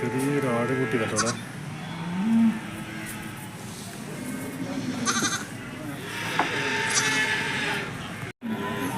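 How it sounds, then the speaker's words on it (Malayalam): Young goat kid bleating at the Chattipparamba cattle market in Kottakkal, several short wavering bleats close by amid livestock and crowd noise, with people talking over it. "ചെറിയൊരു ആട് കുട്ടി കേട്ടോ."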